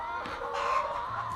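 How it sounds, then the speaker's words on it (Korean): Chickens crowded inside a poultry house in cold winter weather, clucking and calling in a close, continuous flock chatter that carries on throughout. "날씨가 추운 겨울철이라 양계장 안에 모여있지만 사실 이곳의 닭들은 자연과 동고동락하는 자유인 아니 자유 닭들이다"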